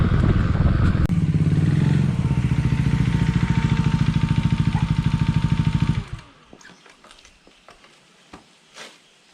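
A modified KTM Duke 390 motorcycle engine runs loud and close for about six seconds with a steady, throbbing exhaust rumble, then cuts off abruptly, leaving faint scattered clicks and light background noise.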